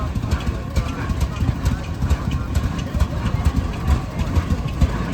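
A vintage single-cylinder engine chugs steadily in a rapid, even pulse, running close and fairly loud at the 2024 Rough and Tumble Engineers parade of power, with people talking over it.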